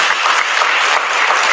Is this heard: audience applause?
yes